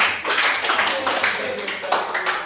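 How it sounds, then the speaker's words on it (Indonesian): Classroom of students clapping for a classmate in a peer-teaching session, a short burst of uneven hand claps close by with some overlapping voices. "tepuk tangan sekali lagi untuk Febiana"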